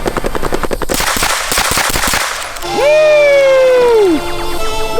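A real Halo SMG replica rips off rapid automatic bursts, loud and close, with sharp repeated cracks, followed by a pause and a person's voice rising in pitch over the ringing aftermath.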